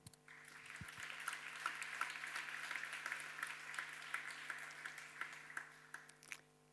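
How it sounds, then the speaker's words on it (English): An audience claps to welcome a speaker at a talk, a soft, even round of applause lasting several seconds over a low steady hum before it stops abruptly. "Please give her a warm welcome and a round of applause."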